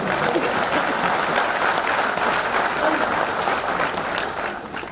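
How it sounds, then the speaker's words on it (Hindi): Sustained applause from a sizable crowd at a CISF Golden Jubilee celebration, dense and steady clapping that tapers slightly at the end. "दोबारा इनके लिए ताली मारो इस बार।"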